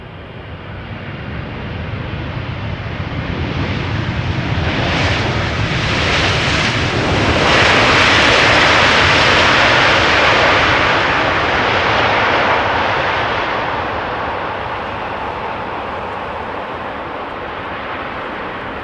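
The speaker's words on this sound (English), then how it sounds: "This is KLM flight 598 777-300 arriving from Cape Town, South Africa." KLM Boeing 777-300, registration PH-BVU, arriving from Cape Town and landing on Schiphol's Polderbaan runway: a loud, broad jet engine roar that swells as the aircraft passes overhead near its peak, then slowly fades, with no talk.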